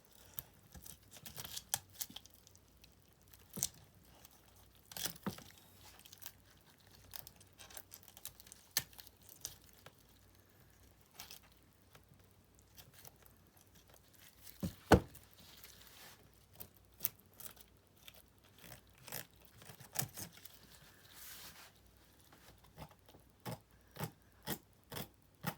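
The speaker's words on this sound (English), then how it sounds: "We'll cut these other fins right here." Scissors snipping through fish fins during taxidermy work, a series of faint, irregular close-up clicks and cuts over quiet background.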